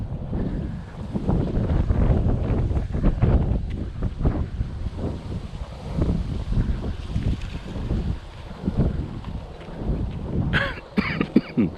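Coughing from someone walking outdoors along a nature preserve trail in November, heard over steady wind buffeting the microphone, with a few sharp close bursts near the end.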